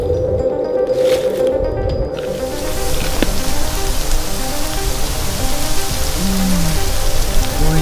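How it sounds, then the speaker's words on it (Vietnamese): Heavy cartoon rain pours down as a steady, dense hiss that fills the whole scene, with a brief low tone partway through and no speech. "Ôi trời, mưa to thế nhở?"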